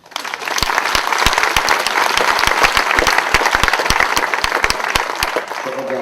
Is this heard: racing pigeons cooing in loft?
no